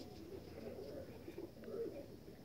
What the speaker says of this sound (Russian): Ну вот мои птички. Хотят кушать.